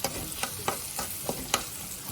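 Onions fry in a pan with a close, constant sizzle broken by rhythmic spatula stirs and taps.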